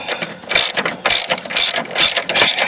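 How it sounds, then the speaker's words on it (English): A ratchet wrench loosens the 14 mm motor mount bolts on a 2002 Nissan Altima, giving loud, close bursts of rapid clicking in a regular back-and-forth rhythm, five strokes with short pauses between them. "now I'm going to start taking the bolts off"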